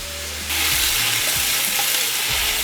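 Onions sizzle and fry in a pan for a British-style Rogan Josh curry, a soft steady hiss that swells sharply as they are stirred, with scraping movement in the pan and no talking.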